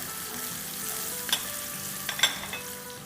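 Finely chopped onions softening in a pan for aloo ki laungi, a low steady sizzle punctuated by a few sharp clinks of the spoon against the pan.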